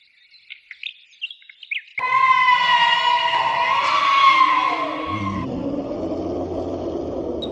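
Birds chirp in a cool, dark forest: a scatter of short, thin tweets, then a louder sustained tonal layer swells over them and a low rumble comes in near the end.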